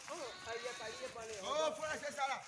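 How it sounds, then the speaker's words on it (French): Sheep bleat repeatedly at a polling station, wavering nasal calls overlapping one another at close range under constant background noise and voices. "il y a des moutons qui sont dans le centre de vote"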